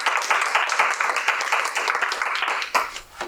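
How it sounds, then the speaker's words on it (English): An audience applauds a presenter named Mallory at an art presentation, a dense, steady round of clapping that carries on for a few seconds before thinning out near the end. "give Mallory a round of applause"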